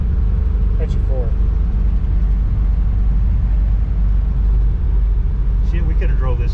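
A 1955 Chevrolet Bel Air sedan cruising in overdrive, a loud, steady low engine drone and road rumble throughout, with people talking inside the car.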